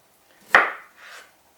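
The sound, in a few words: knife chopping vegetables for veggie soup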